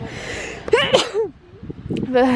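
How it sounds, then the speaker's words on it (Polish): A woman sneezes during a birthday outing, one sharp burst close to the microphone with voices and outdoor background around it. "ja cały czas kicham"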